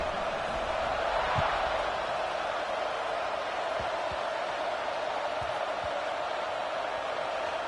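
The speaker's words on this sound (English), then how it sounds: "this crowd is buzzing after that last score" A football stadium crowd buzzing after a score, a steady, dense roar of many voices carrying on evenly, with a few faint knocks scattered through it.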